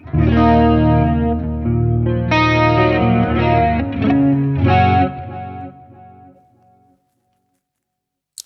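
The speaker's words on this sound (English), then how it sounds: "So I'm getting beautiful chorus and sounds." An electric guitar plays through an amp effects loop with chorus and delay. Lush, shimmering chords ring out loud and close, then fade away into silence.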